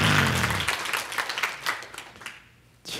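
Audience applause at a health seminar, a burst of dense clapping that thins and fades over a few seconds, with a brief sound returning at the very end.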